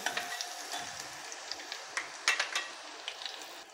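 Crushed garlic dropped into hot oil with cumin in a pan, a soft, steady sizzle with light crackles and a few utensil clicks, fairly quiet and close.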